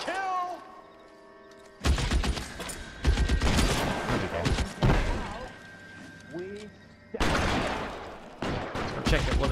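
Video game gunfire in L.A. Noire, a crime-era shootout with Thompson and shotgun weapons: dense bursts of loud rapid shots and booming thuds in clusters, with a player talking over the action.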